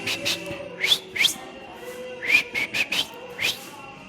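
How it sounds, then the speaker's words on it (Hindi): A person tries to whistle, producing a string of short, breathy, airy whistle attempts with only a few thin tones breaking through, spaced irregularly, close and fairly quiet. "मेरी सीटी तोतली यार, मुझसे सीटी नहीं बजती"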